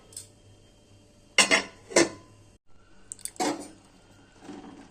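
A metal lid clatters down onto a cooking pot in a home kitchen where gourd leaves are being steamed, giving two sharp clanks, then a pause and another rattling clink, with quiet background between.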